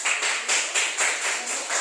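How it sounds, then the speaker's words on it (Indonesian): Classroom applause for a group that has just finished presenting during a micro teaching session, heard as a short run of fairly even, rhythmic clapping bursts at moderate loudness with no talking. "Tepuk tangan dulu untuk kelompok 1."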